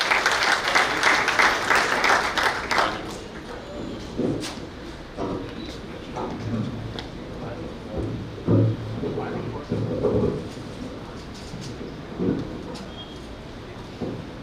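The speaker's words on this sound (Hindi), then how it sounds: "पुरजोर तालियों के साथ उनका स्वागत है।" Audience at a patriotic Hindi poetry gathering at Pratap Gaurav Kendra claps loudly to welcome a poet, the applause fading after about three seconds into scattered claps, room noise and someone speaking.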